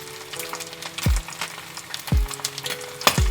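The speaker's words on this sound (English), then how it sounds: "Now I am going to add 20 gram of chopped garlic and I am going to saute it well." Chopped garlic sautéing in melted butter in a pan, a soft steady sizzle broken by three sharp low thumps of a spoon or pan being knocked.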